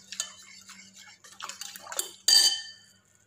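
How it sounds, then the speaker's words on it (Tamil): A spoon scrapes and clinks against a bowl while stirring gelatin mixture for falooda, quiet close-up taps and scrapes ending in one louder ringing knock. "சேர்த்துட்டு 1-5 நிமிஷம் நல்லா கலக்கி விட்டுருங்க."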